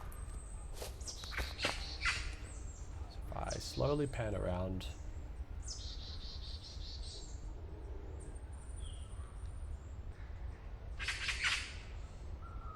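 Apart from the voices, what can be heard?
birds chirping in game engine audio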